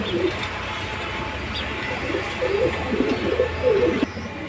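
Pigeons coo in soft, repeated low phrases at a pigeon keeper's gathering, with steady background noise underneath and no speech.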